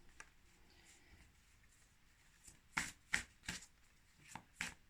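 Oracle cards from the Féminitude deck being shuffled by hand, a faint soft patter early on, then a run of five or six crisp, close riffling bursts in quick succession.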